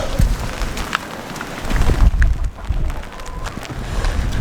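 Steady heavy rain and storm wind on a farm, gusts buffeting the microphone, a dense wash of noise that surges louder midway, no voices.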